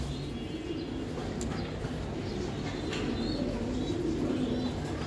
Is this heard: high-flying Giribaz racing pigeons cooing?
yes